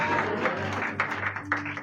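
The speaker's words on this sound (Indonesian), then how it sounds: "Boleh kita kasih tepuk tangan lagi buat Tuhan" Congregation applause at a Sunday church service, a brief burst of clapping over a steady sustained musical tone underneath, moderately loud and close.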